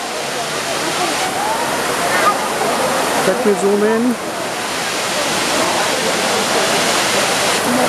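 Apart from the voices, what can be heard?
waterfall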